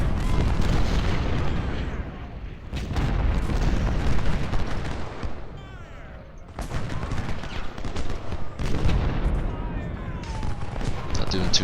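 Artillery fire in a Civil War battle game at First Bull Run: a dense, continuous fusillade of booming cannon and crackling gunfire, loud and sustained with brief lulls, under faint talk.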